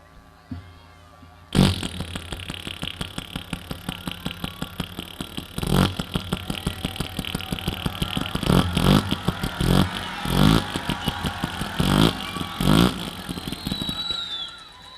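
A stage comedian vocally imitates a Honda CDI 100 motorcycle engine. A sharp burst opens a long run of rapid sputtering pulses, and louder revving surges break through at intervals.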